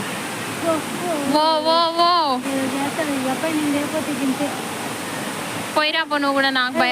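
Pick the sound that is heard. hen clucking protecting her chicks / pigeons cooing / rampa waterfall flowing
rampa waterfall flowing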